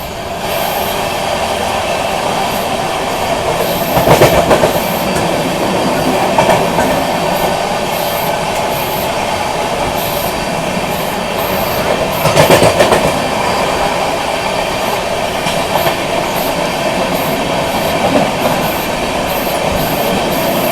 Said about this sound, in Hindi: बगल में ओवरटेक भी पहला अपना हो रहा है यहाँ पे संघमित्रा एक्सप्रेस का